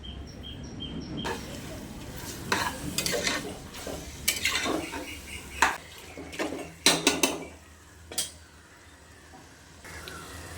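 Chicken pieces tipped into a biryani pot and stirred, giving a series of close metallic clanks and scrapes of a spoon against the pot with faint sizzling underneath, ending in a few sharper knocks.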